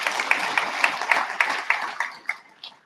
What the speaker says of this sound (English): And please, actually, yes, round of applause for Bobby.